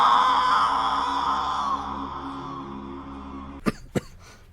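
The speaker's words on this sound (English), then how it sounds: "I just keep coughing." Two sharp coughs close to the microphone near the end, following a few seconds of steady droning background sound, each cough loud and brief and spaced about a quarter second apart.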